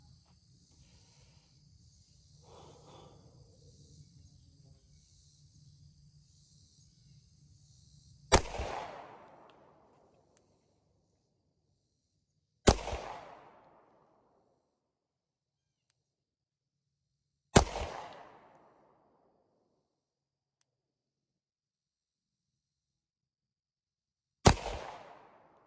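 Four sharp pistol shots from a Glock 43X fitted with an Aim Surplus threaded barrel ring out several seconds apart, each loud crack trailing into a brief decay, after a stretch of quiet outdoor ambience with insect buzz.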